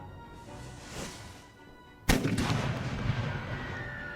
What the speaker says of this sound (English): my new artillery pieces. Pretty darn large bastards, firing a pretty massive high explosive shell